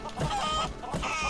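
Chickens in the video game Lego Worlds cluck in short, close bursts, several quick clucks packed into a moment with no talking.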